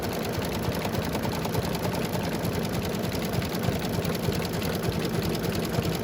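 An embroidery machine runs steadily, stitching an eyeglass case with a fast, even mechanical whir and rapid needle chatter that holds without pause throughout, close and fairly loud.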